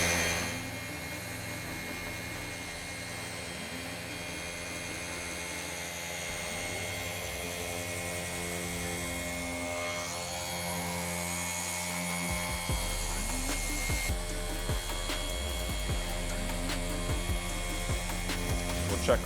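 A polishing machine runs at speed, buffing a car headlight on an X-Wagon; a steady mechanical whir holds throughout, with a louder, rougher low drone and clicking building in the last seconds.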